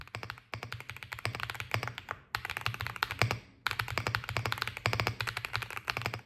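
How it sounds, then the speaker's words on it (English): Rapid, even keystrokes on an Epomaker Galaxy 68 mechanical keyboard with smooth switches, typed close up in steady bursts with a couple of short pauses, clacky and crisp with no talking. "mechanical switches which offers smoother keystrokes and a nice talky sound profile"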